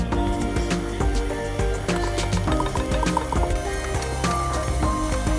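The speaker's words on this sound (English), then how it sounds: "Pouring it there." Liquid pours steadily with a gurgling, trickling texture, fairly close and continuous, with faint background noise, while making cannabis brownies.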